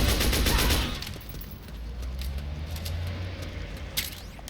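Gunfire during combat with soldiers in the PC-emulated video game Metal Gear Solid 4, heard as a dense, steady stream of shots and clattering over a loud game soundscape, with a sharper crack near the end and no voices.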